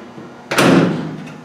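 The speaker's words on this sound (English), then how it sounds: "having the door line up really nice to close super nice" A car door on a vintage vehicle being adjusted to fix panel gaps swings shut with a single solid slam, followed by a short ringing decay, close and loud with no voices.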